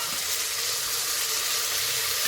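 Tomatoes, cabbage, potatoes and peas sizzle in a frying pan while a pulao is being cooked, giving a steady, hissing fry that holds even and close throughout the short stretch, with no talk.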